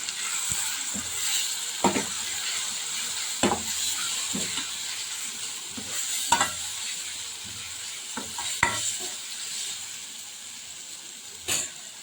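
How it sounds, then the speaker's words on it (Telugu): Eggplant with turmeric and chili powder being stirred in a pan: a soft steady sizzle with intermittent scraping clacks of a spoon against the pan, no voices. "ఒకసారి బాగా కలుపుతాము"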